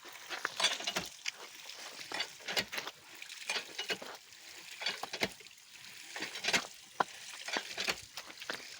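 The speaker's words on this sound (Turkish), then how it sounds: "Güzel soğan, pul biberi, salça. Güzel bir kavuracağız bunu." Onion, pepper flakes and tomato paste being sautéed in a pan, with a spoon stirring in quick, irregular scrapes and taps over a soft continuous sizzle, close and fairly quiet.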